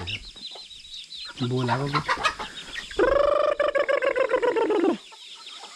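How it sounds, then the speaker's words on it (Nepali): A big red rooster, around 2.5 kilograms, clucks in a loud, drawn-out series of calls with short rhythmic bursts close by, while a voice speaks briefly underneath. "अब यो एउटा यो रातो भाले चाहिँ अलिक ठुलो छ"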